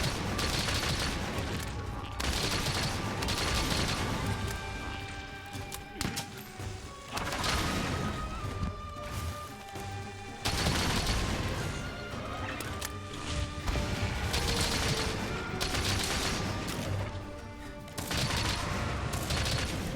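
Light bowgun fire in the video game Monster Hunter Rise, heard as dense, loud, continuous volleys of shots and impacts layered over busy game music and effects, pulsing in repeated bursts throughout.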